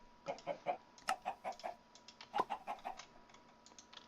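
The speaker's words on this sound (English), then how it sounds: "So let's get a sand chicken." Minecraft chickens cluck in the video game, a quick run of a dozen or so short, bright, fairly close clucks in uneven bursts, then a fading pause near the end.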